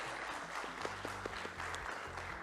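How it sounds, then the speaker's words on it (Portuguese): An audience at a trade and investment forum applauds its panelists with a dense, steady wash of clapping that holds at an even level throughout. "uma salva de palmas para os nossos painelistas"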